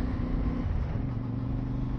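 Engine of a CF Moto MT450 motorcycle on the move, a steady low rumble with a droning hum that shifts pitch slightly midway, close and continuous with no voices.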